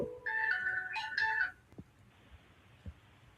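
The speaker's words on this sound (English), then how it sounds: "Jason, call back." A phone rings with a bright electronic ringtone, two close trilling bursts that then cut off, followed by a few faint clicks against quiet background hiss while a caller dials back into a radio show.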